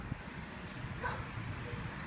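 A young dog on a leash, meeting people, gives a few faint, brief whimpers and yips that sit low under steady background noise.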